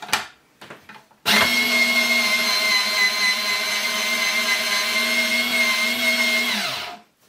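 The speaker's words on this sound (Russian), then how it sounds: "посмотрим, как справится наша электрическая терка с такой задачей" A Maunfeld MF-1031G electric grater grinding parmesan cheese starts after a few faint clicks and runs as a loud, steady motor whine for about six seconds before spinning down.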